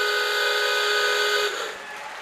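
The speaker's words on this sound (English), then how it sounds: "There goes a half-time whistle." Referee's half-time whistle at a rugby league match between Bradford Bulls and the away side, a loud sustained shrill blast lasting about one and a half seconds, then cut off as crowd noise carries on underneath.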